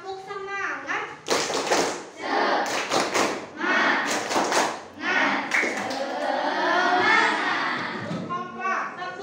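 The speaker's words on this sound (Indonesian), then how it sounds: "Kita tepuk semangat dulu biar semangat semuanya ya." A class of children in an Indonesian classroom claps out a rhythmic spirit cheer, bursts of sharp unison claps and thumps alternating with young voices chanting and speaking.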